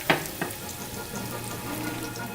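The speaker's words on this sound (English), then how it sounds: "In the same oil where we brown the meat, we're adding coarsely chopped garlic, mustard seed, bay leaves, some dried rosemary and dried thyme" Coarsely chopped garlic, mustard seed, bay leaves, dried rosemary and thyme sizzle in the oil used to brown beef, a soft continuous frying hiss with a couple of sharp pops near the start.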